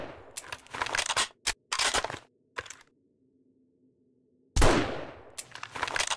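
Gunfire in the zombie survival game 7 Days To Die, a series of sharp single shots and short bursts separated by gaps, with a quiet low hum during a longer pause before the firing resumes loudly.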